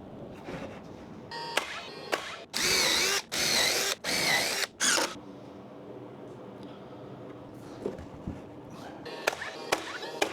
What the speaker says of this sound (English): So I'm just gonna nail and screw these real quick